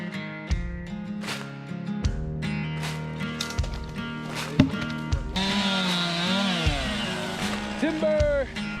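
A chainsaw cuts a tree on a Jeep trail, its engine buzzing in sustained bursts that rise and drop in pitch as it revs and bogs through the wood, with voices nearby.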